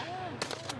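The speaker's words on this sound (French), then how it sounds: "Prochain test, le fusil à pompe." Police officers fire pump-action shotguns at targets 50 metres away on a range, several sharp, fairly distant reports in quick succession under a faint background voice.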